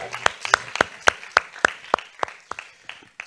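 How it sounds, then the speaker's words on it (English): Sparse applause from a conference audience, a few sharp, evenly spaced hand claps standing out clearly against a quiet room. "I would give both our speakers a round of applause to thank them for their wonderful and brilliant presentations."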